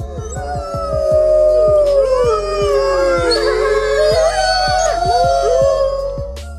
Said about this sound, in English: A single gray wolf can howl up to 90 decibels.